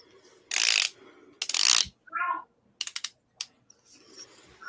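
Scissors cut a pressed-open fabric seam on a folding shopping bag, giving a few loud, close snipping and crunching bursts separated by short pauses.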